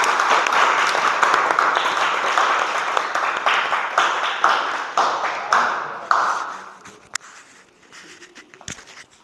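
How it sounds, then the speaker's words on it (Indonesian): Classroom audience applause during a teacher-training lesson, loud and dense at first, then thinning into scattered individual claps and fading out near the end. "Kita beri tepuk tangan"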